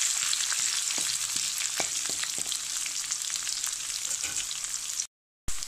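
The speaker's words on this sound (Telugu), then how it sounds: "కూర కారానికి సరిపోను పచ్చిమిర్చి ముక్కలు వేసుకుని 1 నిమిషం వేయించుకోవాలి." Green chilli pieces and grated ginger frying in hot oil for a broccoli tomato curry, producing a dense, bright sizzle with occasional stirring taps, close and steady until a short cut to silence near the end.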